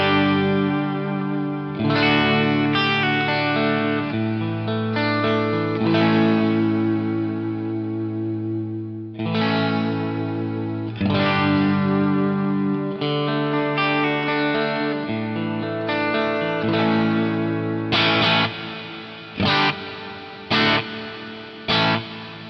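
An electric guitar played through an Eventide reverb pedal, with sustained chords that ring out under a wide, shimmering wet tail. Phrases rise and fall over about twenty seconds, ending in a few short, sharp stabs.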